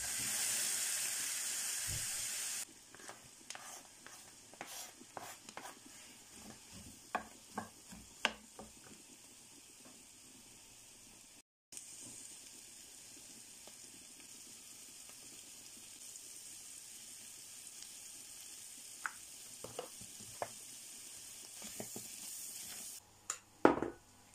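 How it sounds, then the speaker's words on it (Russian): Mushrooms sizzling in a frying pan, a steady soft crackle with scattered pops and occasional stirring clinks, close-up and without talk. "пока картошка варится, мы будем обжаривать грибочки"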